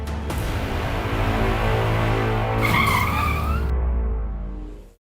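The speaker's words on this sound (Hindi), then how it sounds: "सर, गाड़ी क्यों रोक दी?" A car brakes hard to a stop, its tires screeching and skidding loudly over a low engine rumble for several seconds before the sound cuts off abruptly.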